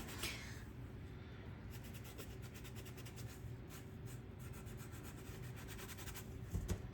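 Rings from an IKEA VIMMERN mixer tap being wiped clean, a soft continuous rubbing and squeaky scrubbing close by, faint and steady, with a small knock at the end.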